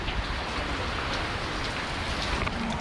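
Steady, heavy monsoon rain pours down in a dense, continuous hiss with no voices, loud and close throughout, in hilly countryside.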